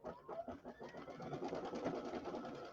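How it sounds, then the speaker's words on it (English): A Brother Luminaire embroidery sewing machine stitches a border, a quiet, rapid mechanical whir of repeated needle strokes that starts, briefly stutters, then settles into a steady run. "Now it's going to go back and it's going to sew the next part."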